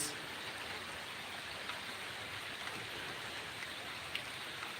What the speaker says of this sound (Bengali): বৃষ্টির কারণে একটা মসজিদের পাশে দাঁড়াইছি এ জায়গায় বৃষ্টির ছিটে পড়তে আছে